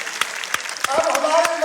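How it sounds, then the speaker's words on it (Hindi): Crowd at a village political rally in Haryana clapping for the village head, a short burst of scattered, moderately loud applause with a few sharp individual claps, with a voice over it. "जोरदार तालियां प्रधान जी के लिए।"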